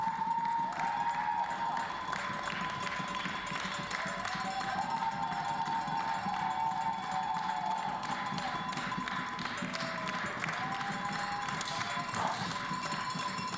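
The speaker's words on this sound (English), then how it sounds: "You can hear the pounding of the seats and the cheering from your own supporters." Supporters cheering and pounding on seats in the stands at a junior men's 10m air pistol team final, a steady crowd din of rhythmic thumping and tapping, some distance away and moderately quiet.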